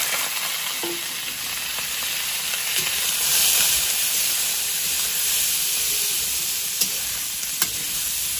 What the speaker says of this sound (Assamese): মাংসখিনি আমি এতিয়া ল' ফ্লেমত ধুনীয়াকৈ ফ্ৰাই কৰিব লাগিব